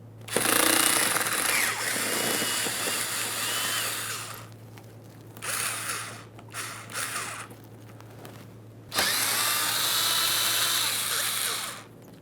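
Power tool, likely a drill or impact driver, taking 7mm bolts out of the lower panel of a 2013-2020 Ford Fusion 2.0L, heard in three loud whirring bursts with short pauses between, over a steady low hum.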